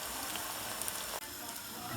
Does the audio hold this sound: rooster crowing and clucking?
no